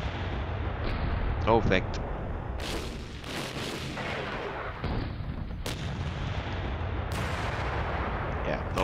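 Artillery guns firing in the wargame Panzer Battles North Africa 1941, several sharp booming shots with a short crackle, loud over a steady battle-ambience bed, while someone talks over them.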